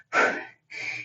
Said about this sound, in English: I'm breathing, huffing, puffing.